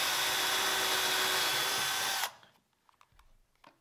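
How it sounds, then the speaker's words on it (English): A power drill whines loudly and steadily as it bores a pilot hole through a piece of wood, then stops abruptly, followed by faint clicks and handling sounds. "all we would do is just drill a pilot hole through the first piece like this."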